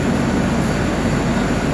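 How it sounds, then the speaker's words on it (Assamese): Steady loud rumble of a moving train heard from inside a carriage, continuous low drone with faint rhythmic rattling throughout. "ট্ৰেইনত আহিছোঁ বাৰু"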